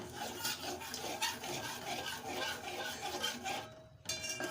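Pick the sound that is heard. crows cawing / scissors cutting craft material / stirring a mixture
stirring a mixture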